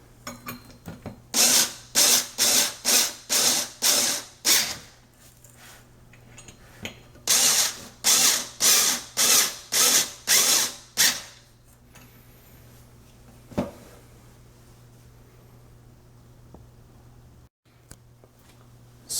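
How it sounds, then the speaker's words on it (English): A cordless screwdriver drives screws into an IKEA Flintan swivel chair base in two sets of short, loud, whirring bursts with brief pauses between them, followed by a quieter stretch of scattered handling knocks. "this is where the cordless screwdriver comes in handy"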